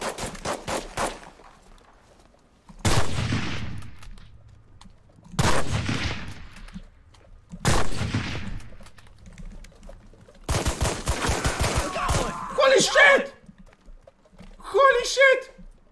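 Bursts of gunfire in the video game Cuisine Royale, several heavy booming volleys and rapid rattling shots, with a voice shouting briefly near the end.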